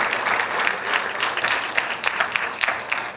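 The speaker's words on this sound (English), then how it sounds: "Please give them both another round of applause for both their tunes." An audience at a high school jazz concert claps for two soloists, Aaron and Marcelo, a dense, steady round of applause with individual sharp claps standing out near the end, fairly close in the room.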